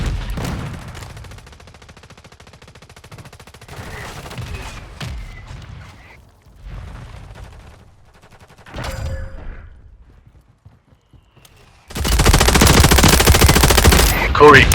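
Video game gunfire during a battle-royale style match with flare revives: scattered quieter shots and impacts, then a loud, sustained automatic burst near the end, emptying many rounds.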